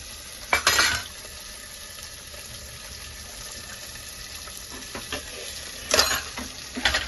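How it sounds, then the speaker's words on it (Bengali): A tadka sizzles in a pan for dal, a steady close frying hiss running throughout, broken by a few louder stirring scrapes and clatters near the start and end. "তো তড়কা লাগিয়েছি, ডালটাতে ফ্রাই করছি"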